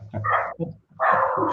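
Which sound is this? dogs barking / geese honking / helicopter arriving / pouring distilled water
dogs barking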